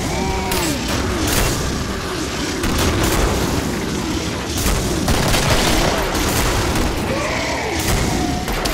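Rapid gunfire and booming blasts from the video game Killing Floor fill the scene continuously, loud and dense, with steady bursts layered over each other throughout.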